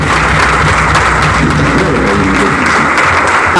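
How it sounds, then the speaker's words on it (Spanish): A crowd applauds at the presentation of Fuerza Patria political candidates, loud and close, with a dense, continuous burst of clapping that carries through the whole moment. "Fuerte el aplauso para Juan Chivaranda."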